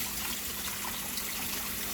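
Dried peas being washed in a bowl of water for Jamaican stew peas: a continuous close trickle and swish of water, steady and fairly soft, with no talk.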